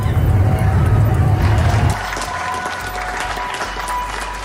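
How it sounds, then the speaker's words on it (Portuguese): Crowd applauding health workers, a dense wash of clapping and cheering with low rumbling underneath for the first two seconds, then lighter, more distant scattered clapping. "Profissionais de saúde são aplaudidos pelo mundo."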